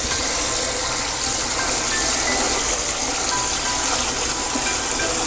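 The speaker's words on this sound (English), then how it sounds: "So I just drain it that much and then I put my water in again." Water gushing into a pot of washed rice, a loud, steady rushing pour close up, continuous and unbroken, no talk.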